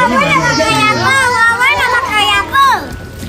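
Children shout and play around a private pool at a holiday homestay in Melaka, their high voices loud and close; calls overlap and rise and fall continuously, with no clear splashing standing out.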